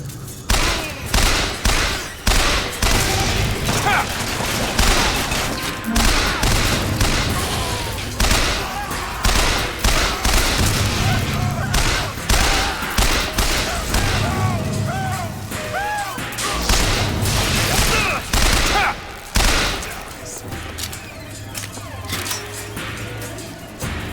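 Rapid machine gun bursts crack through a Bioshock Infinite firefight, loud and repeated in choppy volleys with smashes and impacts between them, while a voice speaks briefly over the combat.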